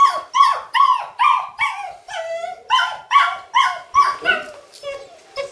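Czechoslovakian Wolfdog puppies at about 48 days old at a breeding kennel whimper and yip in a rapid series of high, wavering cries, about a dozen loud close calls in a row.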